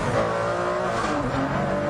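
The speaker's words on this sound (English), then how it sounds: "you get that lovely V12 engine behind you, the blip of the down change that comes automatically" A Ferrari Enzo's V12 engine roars steadily on a race track, loud and close with a sustained revving tone that shifts slightly in pitch as the car drives.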